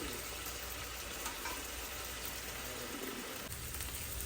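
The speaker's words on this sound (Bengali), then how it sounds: "আমাদের পেঁয়াজ মরিচটা একটু ভাজা হোক" Onions and chillies fry in a pan over high heat, giving a steady, close sizzle that runs unbroken throughout with no talk.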